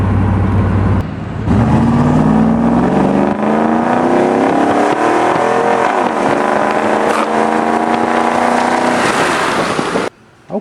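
A dyno-tuned car engine pulls hard through an open window, its rising harmonic tone climbing steadily across several seconds, loud and close, then cutting off abruptly at the end.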